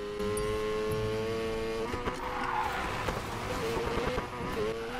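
Race car engine in Need for Speed Payback, likely a Mazda RX-7 Spirit R, revving steadily with tonal whine while tires squeal, continuous and moderately loud throughout with no talking.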